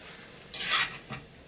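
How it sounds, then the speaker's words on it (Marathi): Boiled potatoes and eggs being stirred together in a pan for egg curry, heard as two quiet scraping strokes of a spoon, one longer and a brief second one, with no talking. "सर्व बटाटे आणि अंडी टाकून घेऊया. छान असं मिक्स करायचं."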